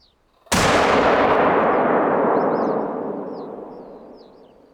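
A single loud rifle shot fired at a mouflon from about 216 yards, a sharp crack followed by a long booming echo that rolls away over several seconds, with faint bird chirps in the background.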